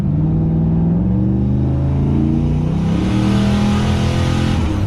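Turbocharged GMC truck accelerating hard at full boost in second gear, a loud continuous engine drone climbing in pitch and swelling in intensity toward the end, no talking.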